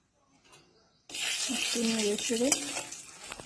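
Pointed gourd coated in salt and turmeric dropped into hot oil, a quiet start breaking into a loud, sustained sizzle and crackle, with a voice talking over the frying.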